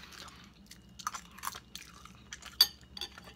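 Someone bites into and chews eggnog matzo ball soup up close, with soft wet crunches and mouth noises in an uneven rhythm, one sharper bite standing out, in a quiet room with faint clinks of dishes.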